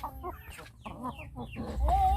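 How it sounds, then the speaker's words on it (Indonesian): KUB village chickens cluck close by in a short busy run of overlapping clucks and calls, with a low rumble of background noise swelling toward the end. "dengan 3 ekor ayam kampung biasa atau ayam kampung asli"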